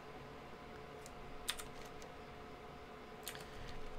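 Light tapping on a computer keyboard at the desk of a World of Warcraft player, with scattered key clicks and two short bursts of typing over a steady low hum of game ambience.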